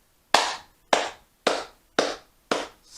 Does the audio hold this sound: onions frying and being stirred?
no